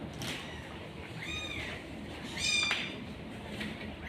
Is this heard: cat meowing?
yes